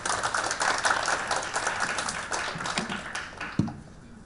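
A forum audience applauds to welcome the next speaker at a youth education forum, a dense, steady clatter of clapping from a seated crowd that holds for several seconds and then begins to thin out.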